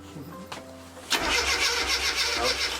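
A Classic Mini engine, back in a garage after two years of restoration, cranks briefly and then catches, settling into a loud, steady running rumble.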